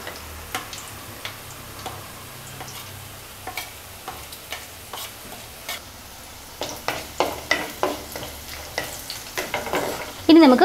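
Ground masala, starting with fenugreek powder, fries over medium flame in a pan for a Kerala-style tuna curry, with a steady low sizzle broken by sharp scraping stirs that grow faster and louder toward the end.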